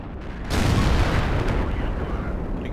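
A tank cannon fires in the World of Tanks video game, a sudden heavy boom followed by a long rumbling decay over continuous game noise.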